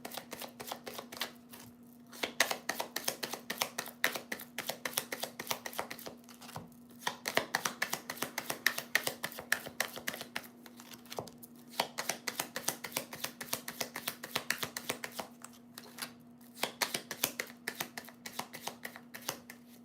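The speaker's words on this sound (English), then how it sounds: "Meanwhile, I haven't shuffled this deck" A tarot card deck is shuffled by hand in quick, crisp bursts of riffling clicks, repeated in clusters with short pauses between them, over a faint steady hum.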